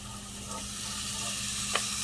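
Curry goat meat sizzles as it goes into the pot, a close steady hiss and crackle with a brief sharper burst near the end, no voices.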